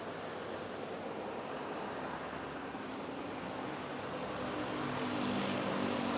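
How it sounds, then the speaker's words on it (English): Airbus A320 airliner on arrival at Manila airport (NAIA) from Iloilo, a broad distant roar of jet noise rising slightly toward the end, steady and wind-like with no voices. "we have this flight from Iloilo arriving."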